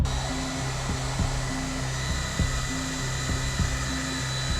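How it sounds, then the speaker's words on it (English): A hair dryer blows over freshly varnished painted miniatures, a steady whooshing hum broken by a regular pattern of soft bumps and clicks, close and continuous. "I sped the process up just a little bit with a hairdryer."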